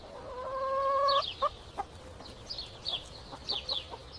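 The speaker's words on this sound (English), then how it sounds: "These are hens." Farm hens clucking in short, repeated bursts with a brief sustained call near the start, fairly close and alone with no talk.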